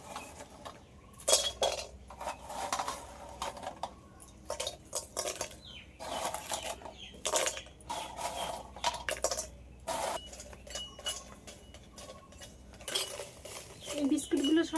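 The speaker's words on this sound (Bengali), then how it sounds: "এগুলো একটু হালকা করে ভেজে নেব আর এই বিস্কুটগুলো ভাজার সময় উনুনের আঁচটা একটু হালকা করে দিয়ে ভাজতে হবে" Broken biscuits being dry-fried in a pan over low heat: a spoon or spatula scrapes and clinks against the metal in irregular bursts, fairly faint and close, without any talk.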